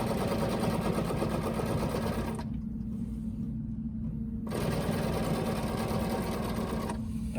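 A sewing machine stitches a quilt guided by a Westalee ruler. It runs with a loud, steady, rapid mechanical chatter and briefly quiets to a low hum midway before resuming at full speed.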